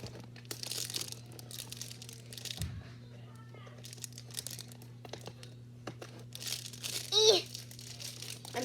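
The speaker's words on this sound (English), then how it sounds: "So we're gonna open the fidget box toy thing." Plastic wrapping on a fidget toy box is crinkled and torn open in short, scratchy bursts, with one sharper crackle near the end, while someone talks throughout.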